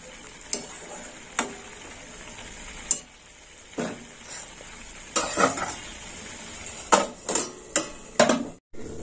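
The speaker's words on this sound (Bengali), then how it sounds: "ঝোলটা ফুটে গেছে, এবার উচ্ছেগুলো দিয়ে দেবো।" Bitter gourd pieces in a boiling curry in a pot, with scattered sharp clinks and scrapes of a utensil stirring against the pot over a faint bubbling simmer, close and fairly quiet.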